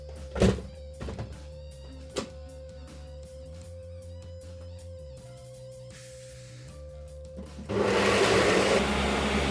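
A few wooden thunks and clatters, then near the end a loud blender roars to life and grinds soaked lupin beans steadily.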